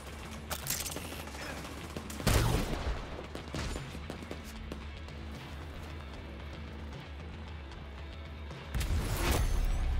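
Gunfire in the video game The Division 2 crackles in repeated bursts and volleys over a busy, loud game soundscape, with heavier blasts near the start and end.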